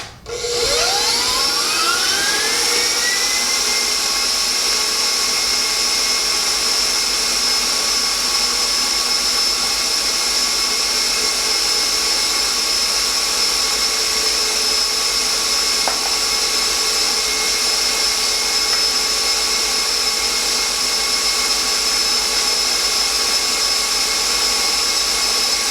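An electric mixer whirs steadily and loudly as it beats snickerdoodle cookie dough, spinning up at the start and then holding one continuous high-pitched drone with no pauses or talk.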